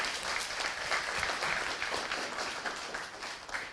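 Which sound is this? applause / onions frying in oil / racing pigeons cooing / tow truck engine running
applause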